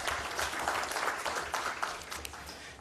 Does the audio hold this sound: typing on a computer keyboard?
no